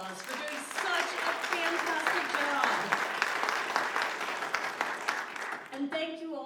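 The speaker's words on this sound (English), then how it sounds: "So please give them a round of applause" Audience applause at a Kansas congressional candidates event, a crowd clapping steadily for several seconds before a voice resumes at the end.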